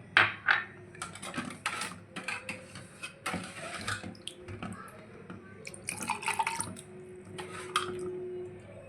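Ice cubes clink and drop into a glass of coconut milk watermelon sherbet, with several bright knocks and rattles in bursts, then quieter handling and liquid sounds between them.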